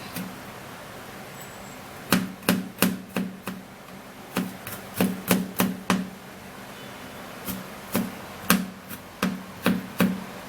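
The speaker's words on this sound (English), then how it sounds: "so now I would have to be cutting the garlic in pieces." Garlic being cut into pieces on a board makes crisp, close knocks that come in quick clusters of three to six, with short quiet gaps between them.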